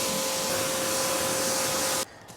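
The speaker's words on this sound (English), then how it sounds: "And just spray it all over all the surfaces." A steady hiss of cleaner is sprayed across the engine bay surfaces of a 15-year-old Subaru WRX for about two seconds, close and constant, then cuts off abruptly into quiet.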